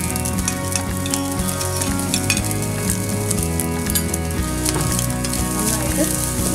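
Small-cut pieces of ham fry loudly in a pan for Japanese fried rice (yakimeshi), a dense continuous sizzle with occasional utensil clinks, close and steady throughout.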